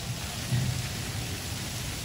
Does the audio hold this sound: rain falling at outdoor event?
yes